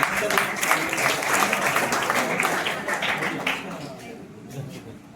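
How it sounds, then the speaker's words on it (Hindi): Students and audience at a block-level mega quiz competition applaud in a crowd round, clapping dense at first and thinning out toward the end, with voices mixed underneath. "चलिए जोरदार ताली इसके लिए"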